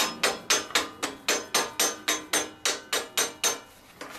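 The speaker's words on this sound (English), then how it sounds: "using your rubber mallet, you want to go ahead and gently hit" A rubber mallet gently taps a cutting block bar on an AutoMax 300C/500C G3 machine, about fifteen evenly spaced, moderately loud knocks at a steady rhythm, close up with no talking.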